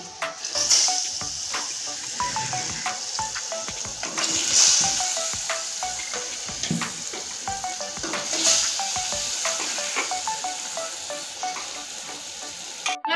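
Pieces of pomfret fish sizzle and spit steadily in hot oil, a close, continuous frying crackle with brief louder hisses and a few light clinks of a utensil against the pan.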